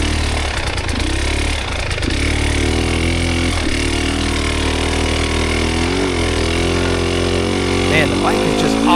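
An enduro dirt bike engine labors over a wooded hill and a fallen log in a hard enduro race, revving up and down close by while a voice talks at times.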